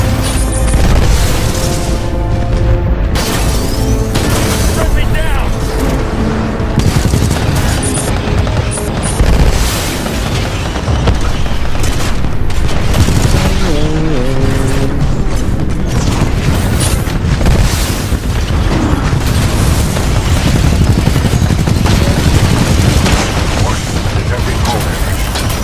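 Titan salvo core missiles in Titanfall 2 fire and explode in a dense barrage of loud booms and rapid blasts that continues without letup, with in-game voices heard over the gunfire.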